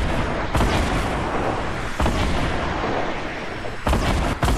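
Rocket launcher explosions in the Fortnite video game, a run of loud, close booming blasts layered over a dense, continuous rumble of battle noise.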